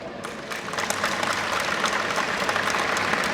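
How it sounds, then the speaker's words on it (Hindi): Applause builds from a stand-up comedy audience, a rising patter of clapping that settles into steady, moderately loud applause lasting a few seconds. "तो ठोक दो ताली"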